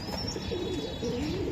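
Racing pigeons coo softly in a low, rolling, repeated murmur against a constant background hum, fairly close and with no talking.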